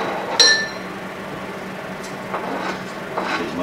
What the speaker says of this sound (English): I'm gonna scrape the seeds with the pulp and everything inside this jar and put that in there